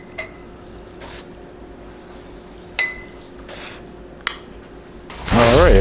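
Salt is spooned into glass canning jars, giving a few sparse, sharp clinks of metal against glass in a quiet room, followed by a louder rustling clatter at the end.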